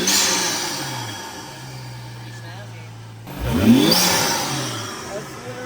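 Turbocharged BMW F30 335i engine revving, a low idle hum giving way to a sharp rising rev with turbo whine and whoosh, people talking over it.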